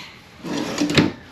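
A kitchen drawer in a 2022 Forest River Cherokee Alpha Wolf 26RB L travel trailer slides and bumps shut once, a brief close-up rattle and knock heard alone, without any talking.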